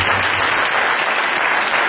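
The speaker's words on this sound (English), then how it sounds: "clap again" Congregation clapping during a church sermon, a loud, dense and steady round of applause from many hands filling the room, with no voices over it.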